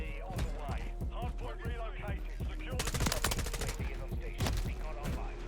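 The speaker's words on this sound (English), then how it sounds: "this man is really sniping right now with the slowest sniper" Rapid gunfire from a Call of Duty: Modern Warfare III multiplayer match, a fast run of sharp cracks and bursts over busy game sound, with someone talking over the shooting.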